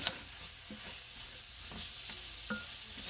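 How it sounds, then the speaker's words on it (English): Mushrooms stirred into browning hamburger in an enamel cast iron pot, a soft steady sizzle with a few scraping strokes of the spoon, quiet and close, with no talk. "And then I have my mushrooms. Get that stirred up in there."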